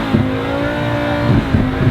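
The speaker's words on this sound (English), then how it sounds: "So if you want to rev it, you can do so." A car engine revs loudly and close during a police exhaust noise test, a steady sustained roar with slight surges in pitch.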